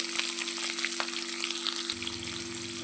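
Onions and green chillies fry in a pan for a Telangana-style potato curry, giving a dense, continuous sizzle close up with occasional soft stirring scrapes and a steady hum behind.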